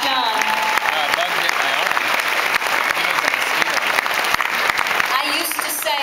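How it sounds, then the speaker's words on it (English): Sustained applause from an audience at a company gathering for Arbonne sellers, dense and steady throughout with a few voices faintly mixed in. "So give yourself a round of applause for what you've done."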